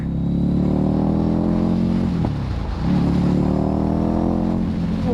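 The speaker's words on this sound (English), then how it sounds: "love the sound of the exhaust." A Ducati Scrambler motorcycle fitted with an aftermarket exhaust accelerates on a test ride, a loud deep engine note rising in pitch, briefly dipping at a gear change, then climbing again as wind rushes past.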